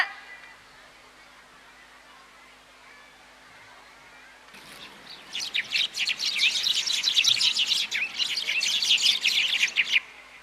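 Sparrows chirp in a dense, busy chorus that starts abruptly midway and continues loudly to the end, following a quieter stretch of low background hiss.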